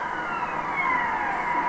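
A police car siren wails steadily in the distance on a road on New Year's Eve in north-west England, a sustained tone with a slow pitch sweep, fairly loud and unbroken, with no talking over it.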